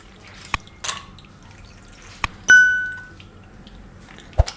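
Cashew nuts get rinsed in a bowl of water in a home kitchen, with scattered drips, light clinks and pings against the bowl and one ringing splash-like tone, sparse and close with no talking.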